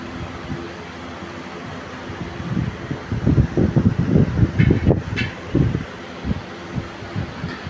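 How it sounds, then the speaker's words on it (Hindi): An air cooler fan runs with a continuous whooshing hum, steady and fairly close, with a rhythmic low thumping swelling in the middle before easing back to the plain drone. "यहाँ देख सकते हैं कूलर चालू हो गया है"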